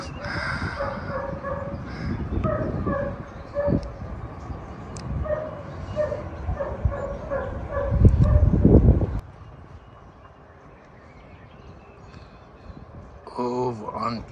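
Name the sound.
dogs barking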